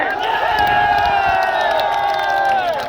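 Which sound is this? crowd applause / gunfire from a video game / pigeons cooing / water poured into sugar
crowd applause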